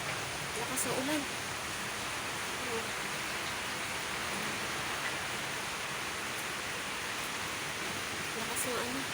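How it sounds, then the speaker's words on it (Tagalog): Heavy storm rain with strong wind pours steadily, a dense continuous hiss filling the whole clip, with faint voices briefly audible beneath it. "Lakas ng ulan."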